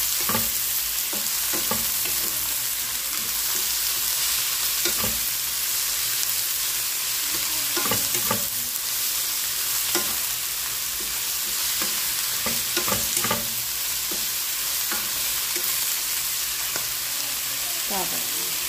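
Banana blossom sautéing in a pan for ginataang bagongon, a dense continuous sizzle with repeated spatula stirs and scrapes clicking through at an uneven pace, close and steady.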